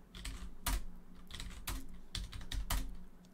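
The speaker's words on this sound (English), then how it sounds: "but if I start typing" Rapid clicking of keys on a computer keyboard, uneven bursts of typing with a few louder strokes, close by and with no voices.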